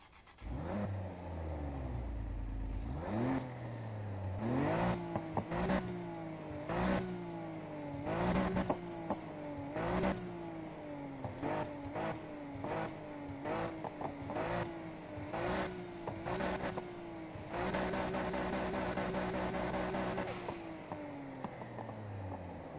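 A stock-performance Nissan Skyline R34 with a big aftermarket exhaust in Need for Speed Heat revs and accelerates through repeated rising gear pulls, loud and close, with a sustained high rev near the end.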